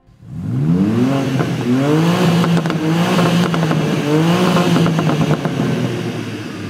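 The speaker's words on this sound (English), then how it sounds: "let's have a listen to what this new M2 sounds like." Engine of the new BMW M2 revved up from idle, a loud, close, rising and falling growl through several throttle blips, with no talk over it.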